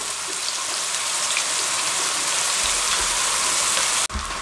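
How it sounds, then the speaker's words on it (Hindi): Chopped onions sizzle and crackle in hot oil in a pan as they fry toward golden brown for a restaurant-style dal tadka, a dense steady hiss up close, ending with a brief clatter. "इस तरीके से प्याज को हमने इसके अंदर रोस्ट करना है, गोल्डन ब्राउन करना है"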